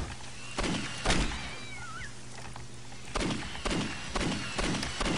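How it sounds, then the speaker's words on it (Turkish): A cat meows in the Postal 2 video game, short strained cries heard amid a run of sharp gunshot-like thumps from the game. "Bayağı vuramadım ya kediyi."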